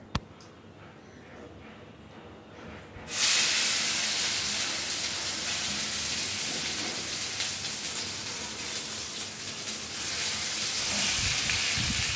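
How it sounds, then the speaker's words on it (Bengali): Ground taro paste hits a hot wok with spiced oil and erupts into a loud, sudden sizzle after a quiet start, then keeps up a steady close hissing fry with slight swells near the end. "ফোড়নটা একটু নেড়ে নিয়ে আমরা বেটে রাখা মানকচুটা কড়াইতে দিয়ে দেব।"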